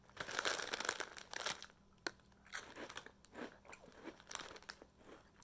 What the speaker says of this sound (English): They're crunchy and salty and just lovely.